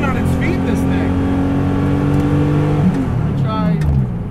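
A raced-in-period, rat-rodded 1970 Porsche 911 drives a Malibu road in third gear, its engine droning loud and close with rising and falling revs, while a voice speaks briefly over it.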